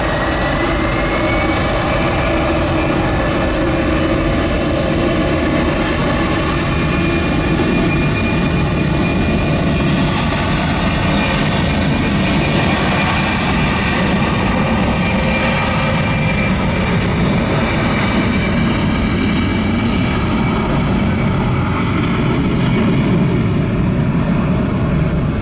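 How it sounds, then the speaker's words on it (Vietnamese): A C-17 Globemaster III military transport jet takes off from the runway at Noi Bai International Airport, a loud, sustained engine roar that holds steady throughout. "Máy bay vận tải quân sự to lớn đang rời khỏi mặt đường băng sân bay quốc tế Nội Bài."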